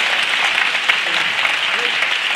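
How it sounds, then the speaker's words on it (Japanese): Crowd applause rings out for the winner of a Lethwei bout in Japan, a dense, loud, continuous clatter of many hands with no pauses. "今一度大きな拍手をお送りください"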